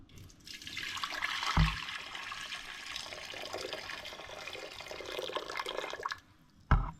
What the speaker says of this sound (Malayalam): കുക്ക് ചെയ്യാൻ ആവശ്യമായ വെള്ളം ഒഴിക്കാം.